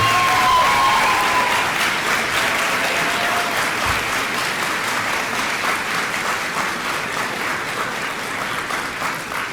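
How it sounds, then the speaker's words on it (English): Graduates at the Holland College graduation in May 2016 give a long round of applause for family and friends, a broad, even wash of many clapping hands that starts strong and tapers slightly, with no talking. "could I ask all of the graduates to give a big round of applause for family, friends, and members and everyone that were there for you"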